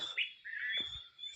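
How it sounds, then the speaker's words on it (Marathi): Birds chirping in the morning among trees, a short bright twitter and warbling call, close and clear over quiet surroundings. "पक्षी उठलेले आहेत, किलबिलाट करत आहेत."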